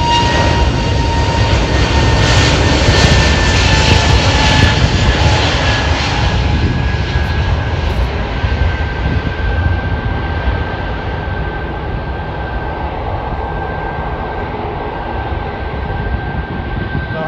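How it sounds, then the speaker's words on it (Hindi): A fixed-wing airplane taking off from an airport, its jet engines producing a loud steady roar that slowly eases off as it climbs away, with no voices. "देखो फ्लाइट उड़ने वाली है थोड़ी देर में।"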